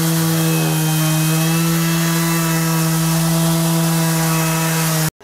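A Makita 18-volt sander runs continuously against a surface, giving a loud, steady, close motor whine with a droning hum and a gritty rasp, then cutting off abruptly at the end.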